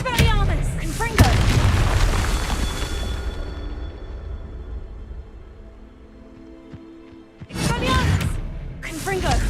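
Confringo fire-blast spells in Hogwarts Legacy, sharp booming bursts at the start and again near the end, separated by a long fading rumble and quieter hum, with spoken voices around the blasts.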